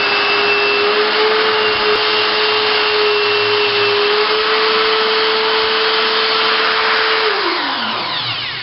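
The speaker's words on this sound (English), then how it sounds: "Additional step is to buff the rough edges" A power tool buffs the rough edges of a wooden back scratcher, a loud steady whine holding one pitch, then sliding downward near the end as the motor winds down.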